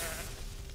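Goat people from the Diablo 3 video game let out a short, close bleating cry that trails off quickly against game background sound.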